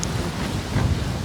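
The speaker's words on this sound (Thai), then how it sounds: "ลมแท้เลย" Strong wind blows hard against the microphone outdoors, a loud, steady roaring rumble with no pauses across a brief stretch.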